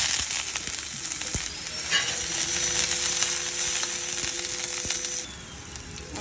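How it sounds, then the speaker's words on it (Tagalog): Onions frying in oil in a pan, a steady broadband sizzle throughout with occasional stirring clicks, close and fairly loud, with no voices. "Lagay na tayo ng oil. And yung onions na."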